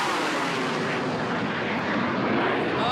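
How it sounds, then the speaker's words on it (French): Ukrainian military aircraft pass overhead during wartime, producing a loud, continuous, broad roaring rumble that fills the sky and swells slightly toward the end, with no talk over it. "Ce sont des avions. Un bruit sourd déchire le ciel."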